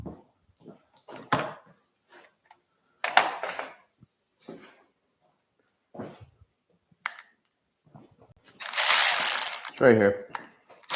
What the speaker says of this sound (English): I'm gonna need this 1/4-inch ratchet though.